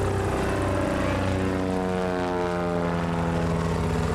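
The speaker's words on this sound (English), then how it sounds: "Slowly rising, coming from your right to left in that Super Cub" A Piper Super Cub STOL airplane at a short-takeoff-and-landing competition flies past at full power, its propeller drone loud and steady with harmonics sliding downward as it passes from right to left.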